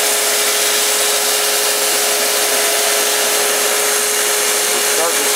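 A knife blade worked back and forth on a sharpener to raise a burr, making a constant dense grinding hiss with a steady tone running through it, loud and close without pause.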